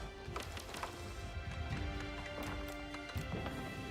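Horse hooves clip-clopping in Age of Empires, a quick irregular series of soft knocks over a busy background of game sounds and faint tonal effects, fairly quiet and without talk.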